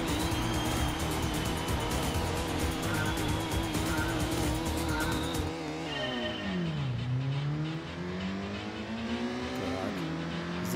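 A race car's engine in the Gran Turismo racing game drones at high revs, then the pitch drops sharply as it shifts and climbs steadily again while accelerating, with faint tire noise underneath.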